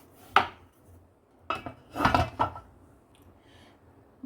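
A rolling pin works bhatura dough on a board, producing a few soft, dull knocks and thuds spaced irregularly with quiet gaps between them.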